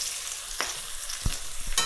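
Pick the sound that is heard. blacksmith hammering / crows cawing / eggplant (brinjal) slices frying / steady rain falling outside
eggplant (brinjal) slices frying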